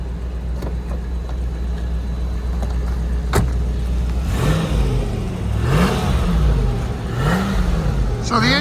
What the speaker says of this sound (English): just run the engine up a little bit and then circle it around me